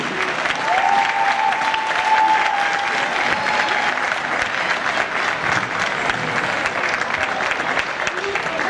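Sustained, dense applause from an arena audience at a horse demonstration event, loud and steady throughout, with a faint whistle and crowd murmur mixed in.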